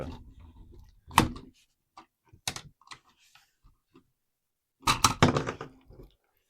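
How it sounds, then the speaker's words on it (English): A M.A.S.K. Rhino toy missile launcher from The Loyal Subjects clicks into place, giving a few sharp, close plastic clicks and knocks spaced out over several seconds with quiet gaps between. "Clicks in nicely."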